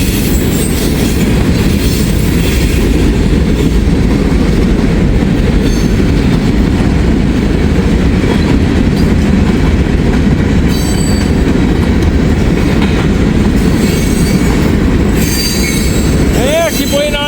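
A freight train of big old boxcars rolls past close by in Ohio, a loud continuous rumble of wheels and rattling cars with squealing wheels and occasional clicks, and no talk throughout.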